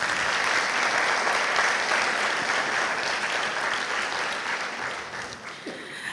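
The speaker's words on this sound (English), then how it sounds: "So give them one more round of applause" A graduation ceremony crowd applauds the graduates, a steady, full wash of clapping from many hands that stays loud throughout before easing slightly near the end.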